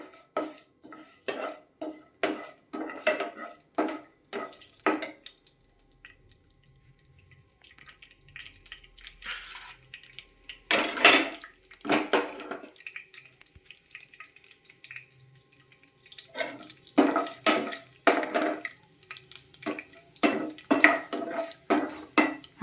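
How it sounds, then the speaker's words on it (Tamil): Mustard seeds and urad dal crackle and sizzle in a hot pan with bursts of rapid popping, broken by clinks of utensils and quieter stretches. "கடுகு உளுந்தம்பருப்பு போட்டு நல்லா ஃப்ரை பண்ணுங்கள்"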